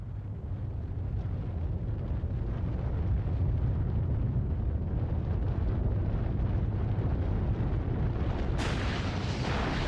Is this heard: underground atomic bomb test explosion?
yes